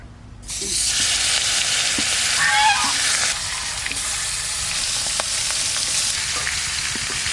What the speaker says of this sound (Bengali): কড়াই গরম হয়ে গেছে, এবার সরষের তেল দিয়ে দেবো।